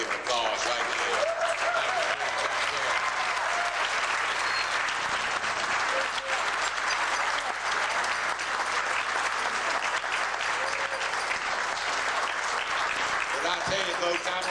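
Sustained audience applause fills a 1991 political speech event in San Francisco for a Kentucky governor candidate, dense and steady throughout, with scattered voices and a few shouts mixed into the crowd noise.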